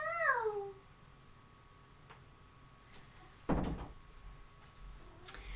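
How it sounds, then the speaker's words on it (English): A cat gives a single short meow right at the start, faint and fairly close, followed by quiet room sounds and a thump like a door or cupboard. "Do I hear a meow?"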